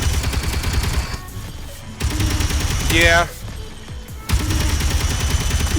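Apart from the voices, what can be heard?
jump drive critical explosion in Space Engineers video game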